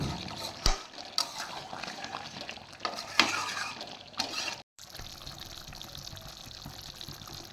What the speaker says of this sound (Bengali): আমি এই মশলাটা দিয়ে এখনও 7 থেকে 10 মিনিটের মতন একটু কষিয়ে নেব